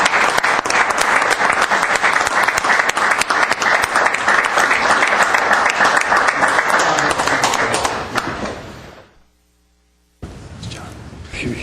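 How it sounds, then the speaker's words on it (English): A room at a Glendale city council meeting breaks into loud, dense applause that carries on strongly for about eight seconds, fades to silence, then a murmur of voices and movement picks up. "Let's give them a big round of applause"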